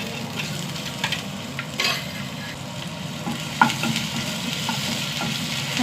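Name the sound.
crushed cumin and garlic frying in hot oil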